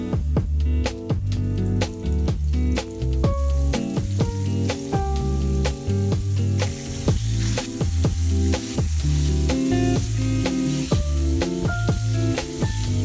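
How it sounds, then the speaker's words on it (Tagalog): Milkfish (bangus) seasoned with salt and pepper and coated in flour fries in hot oil, giving a steady, continuous sizzle beneath loud background music. "seasoned it with salt and pepper first and coated it with flour to avoid splattering and fried it on both sides"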